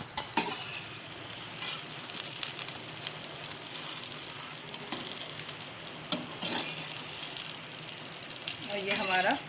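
A cheese omelette cooks in a pan over a flame, giving a continuous soft sizzle with occasional scraping and clinks of a utensil against the pan.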